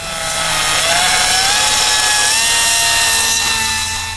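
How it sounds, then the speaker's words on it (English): A power grinder runs steadily and loud, enlarging the nut hole in a steel mounting bracket for a Hydro-Boost brake and master cylinder upgrade on a Buick Grand National, a continuous high whine with shifting pitch and no talk. "So you want to grind the hole big enough so that the nut passes freely through."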